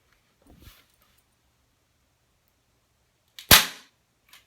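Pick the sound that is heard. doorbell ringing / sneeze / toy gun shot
toy gun shot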